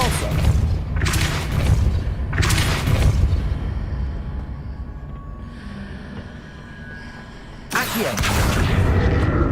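A Depulso spell blast in Hogwarts Legacy, heard as loud booming bursts with heavy low rumble, several thumping blasts in a row, then a quieter stretch before another strong burst.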